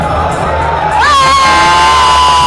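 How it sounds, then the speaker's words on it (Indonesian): Thousands of supporters and Aceh residents crowd together, cheering and shouting loudly to welcome Anies after Friday prayers at Baiturrahman Grand Mosque, a dense roar that swells after a second, with whistles and whoops cutting through. "Kedatangan Anies disambut meriah oleh pendukung dan kerumunan ribuan warga Aceh hingga berdesakan"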